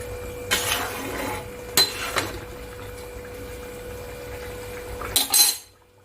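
A lid clatters onto a pot of simple Bengali katla fish curry with vegetables, giving a few sharp metallic clinks near the start, in the middle and at the end over a faint steady kitchen hum.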